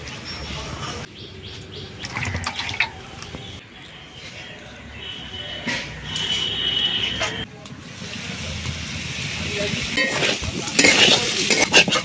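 Papaya and potato frying in a pan give an uneven sizzle with stirring scrapes and knocks, growing louder toward the end, while faint bird chirps sound in the background.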